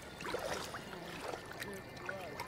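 Soft, faint trickling and dripping water in the horror game Outlast 2, a steady gentle flow with small bubbling splashes throughout, no voices over it.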